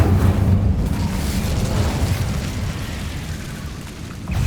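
A fiery Incendio spell erupting in Hogwarts Legacy, a loud sustained whooshing roar of flame with a heavy low body, fading slightly before a small flare at the end.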